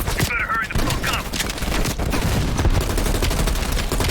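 Rapid bursts of heavy machine gun fire rattle in a Call of Duty: Black Ops Cold War campaign battle, loud and close, with dense gunshots layered over one another and voices talking beneath the shooting.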